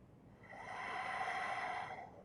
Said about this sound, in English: So stay still and breathe for 6 times.